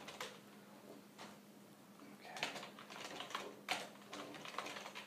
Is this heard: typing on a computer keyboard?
yes